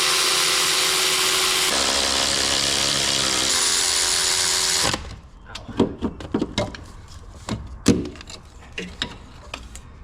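A power tool runs steadily for about five seconds while tightening bolts on a supercharged Pontiac Fiero during a repair, then stops, leaving scattered clanks and knocks of parts being handled.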